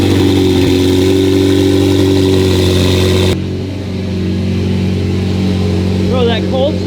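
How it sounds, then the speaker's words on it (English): McLaren 720S twin-turbo V8 on a cold start, roaring loud and steady at high idle, then dropping to a lower settled idle with voices talking over it near the end. "Bro, that cold start's ridiculous."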